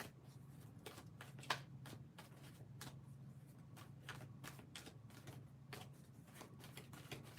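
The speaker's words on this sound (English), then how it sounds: "one more shuffle, and then we're good to go." Tarot cards being shuffled during a live reading: faint, rapid papery flicks and ticks in quick uneven bursts, quiet and close over a low background hum.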